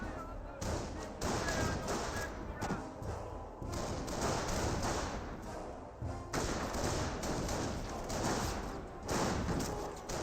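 Gunfire crackles through a Company of Heroes World War II battle, scoped rifles and an MG42 firing in dense, muffled bursts and thuds under constant combat noise.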